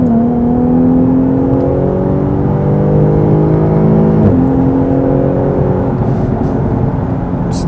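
Jaguar F-Type accelerating in manual mode, its engine note rising steadily through the gears with one clear upshift dip midway, loud and close, heard from inside the car without speech.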